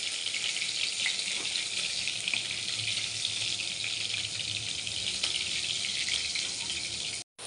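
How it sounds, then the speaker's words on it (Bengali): Pieces of a large fish fry lightly in oil in a pan, making a steady, close, hissing sizzle that runs unbroken until a brief cutout near the end. "আমি মাছ হালকা করেই ভাজি করি তরকারি রান্নার জন্য।"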